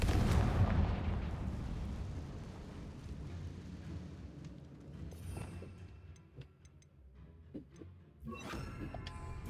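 Confringo fire spell explosion in the Hogwarts Legacy video game: a loud booming blast at the start that rumbles and fades over several seconds, followed by scattered clanks and crackles, with a second burst near the end.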